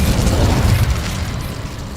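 Hogwarts Legacy Incendio fire spell going off as a loud, steady roaring whoosh of flame that fades slightly over two seconds, with no talking.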